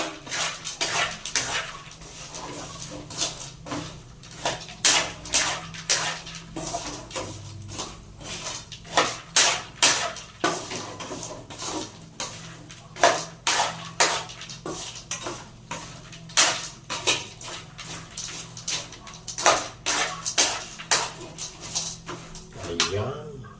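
Sweet peanuts stirred in a metal pan, a steady series of sharp scraping and clinking strokes from a spoon, close and repetitive, with a voice speaking now and then under the stirring.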